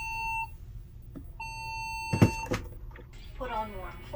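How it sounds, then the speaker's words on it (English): Cruise ship emergency alarm signals sounding during a safety drill aboard the Disney Wonder: two sustained electronic tones with steady harmonics, each lasting about a second, separated by a pause, followed by clattering and a voice speaking over the end. "So they're explaining the different alarms to us."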